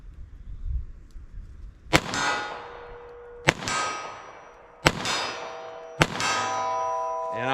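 A .32 Long pocket gun firing hard cast bullets: four sharp, loud shots spaced a second or so apart, each followed by a bright metallic ring that decays slowly.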